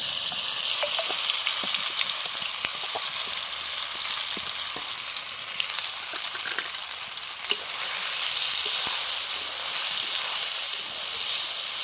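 Oil frying hot in a kadai seasoned with asafoetida as a batter mixture goes in: a constant bright sizzle and hiss with frequent small crackles and one sharper tap near the end, close-up and without voices.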